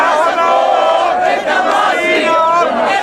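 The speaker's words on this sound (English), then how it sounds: "It's a roar of sound because everyone's so excited and they're singing songs of the revolution and they're shouting slogans" A dense, loud crowd roars and shouts slogans at a revolutionary celebration in Cairo, a continuous wall of excited voices with chanting and singing blending together, close and unbroken throughout.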